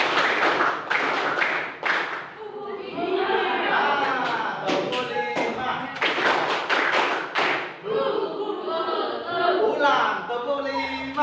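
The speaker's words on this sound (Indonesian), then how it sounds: "Tepuk 1, tepuk 5." A school class claps along in a rhythmic counting chant led by the teacher: clusters of sharp claps, group voices chanting loudly between and over them, the beat recurring in bursts across the classroom.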